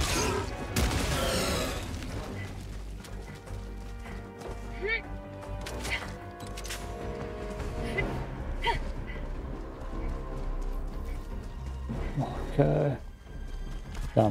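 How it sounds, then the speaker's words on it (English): Helldivers 2 grenade explosions burst amid heavy in-game gunfire and crashing effects, several loud booms scattered across a busy battle soundscape with someone talking over the action. "I'm gonna get those grenades and blow it up."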